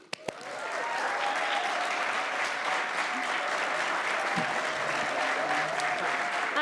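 A welcome ceremony audience at a civic leadership academy breaks into steady, sustained applause for a speaker, dense clapping that holds evenly at moderate level throughout.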